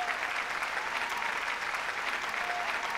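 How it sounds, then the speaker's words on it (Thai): An audience claps steadily and densely throughout at a ceremony honouring diamond-level Amway business owners, a thick even wash of hands with no pauses and no voices. "ปรบมือให้แม่ฟ้าหน่อยนะคะ"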